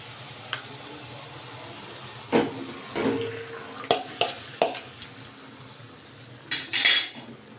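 Chicken pieces go into a pan of softened tomato, ginger and garlic for a chicken dalna, with a few sharp metal clinks and scrapes of a spoon against the pan over a faint sizzle, the clatter bunching toward the end.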